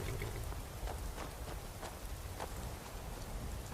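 Steady rain falls in Skyrim, a dense, even patter with occasional sharper drops, close and continuous with no talk.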